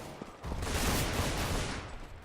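Pistol shots from a USP in a Counter-Strike competitive match, a dense burst of sharp gunfire crackling loudly for about two seconds before tapering off, with no talk.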